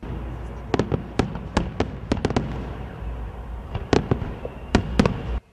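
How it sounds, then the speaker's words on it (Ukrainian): A series of sharp firework bangs at the opening of the Arena Lviv stadium in Lviv bursts out in irregular clusters, some close together, with a steady crowd-like rumble underneath. "відкриття стадіону Арена Львів завершилося грандіозним феєрверком"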